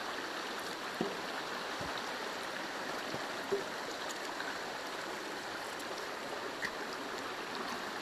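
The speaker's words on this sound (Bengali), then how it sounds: "ঝর্ণার শব্দ" Waterfall at the Bangladesh–India border: a steady, even rush of falling water, heard from a moderate distance at low volume, with a few faint clicks and no talking.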